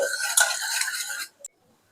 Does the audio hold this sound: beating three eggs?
yes